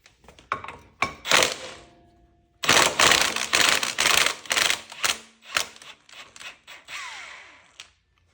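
Socket ratchet with a 13/16 socket working a nut loose on a Coleman BT200X mini bike, with bursts of sharp metallic clicks and clatters in quick runs, close up, with a short pause partway through.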